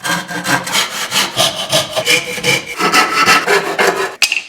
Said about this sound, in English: A piece of walnut that I'll cut.